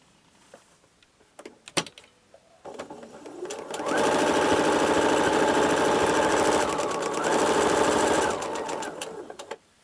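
Sewing machine stitching quilt fabric for a Union Square quilt pattern, running in one steady rapid burst of several seconds after a few light handling clicks, close and loud with no talking.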